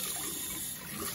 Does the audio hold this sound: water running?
yes